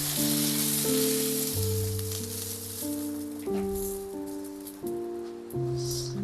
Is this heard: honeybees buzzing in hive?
no